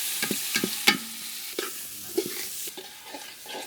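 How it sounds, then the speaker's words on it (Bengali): Rice and mung dal sauté in a pan for khichuri, a spatula scraping and stirring in uneven close strokes over a soft, continuous sizzle. "চাউল ডাল কষানো হয়েছে"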